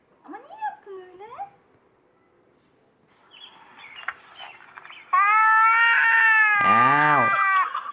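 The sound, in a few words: cat meowing and yowling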